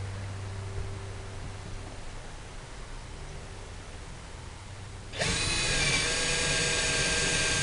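A quiet low hum gives way to a loud, whirring power drill boring into solid wood on a shed door, starting abruptly and running steadily, close by.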